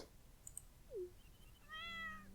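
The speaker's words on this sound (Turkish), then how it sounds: "Sanırım başıboş bir kedi, zavallıcık." A stray cat in Stardew Valley gives a short, soft meow, followed by a faint chime-like game tone, in a quiet scene with no voices.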